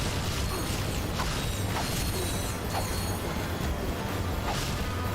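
Wrench swings in the PS2 game Ratchet & Clank produce repeated whooshing strikes at a steady pace over dense, continuous mechanical game noise.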